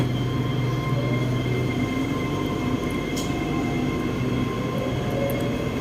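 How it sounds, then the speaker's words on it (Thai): An SRT Red Line long-distance train runs past in Bangkok, a steady low rumble of wheels and cars rolling continuously at close range, loud and unbroken with faint high squeals above. "เพื่อจะได้เห็นรถไฟทางไกล วิ่งไปวิ่งมาด้วย"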